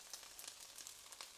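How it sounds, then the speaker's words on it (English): Lean beef mince, carrots and green beans stir-frying in a home kitchen pan, a faint, soft sizzle with scattered small crackles and pops running throughout, with no talk. "Stir frying in the pan here."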